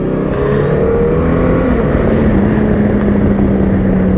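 A 2022 Honda Gold Wing 1800 DCT motorcycle engine hums loudly and steadily with a rising, revving pitch, close and continuous like a racing drone.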